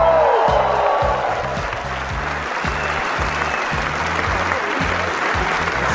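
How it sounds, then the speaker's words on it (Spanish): An ovation from a nightclub crowd in Punta del Este greeting a performer, a dense, steady roar of applause with rhythmic thumping music pulsing underneath throughout. "¡Ovación!"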